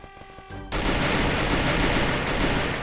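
Gunfire in the Free Fire battle game starts with a few light shots, then breaks into a dense, loud burst of rapid automatic fire that continues nonstop to the end, without voices.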